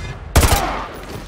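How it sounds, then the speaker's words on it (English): A single close, loud gunshot from Call of Duty Modern Warfare 2 Remastered, a sharp burst with a short ringing tail that fades quickly into quiet game ambience. "Roach, take the shot. One for his leg."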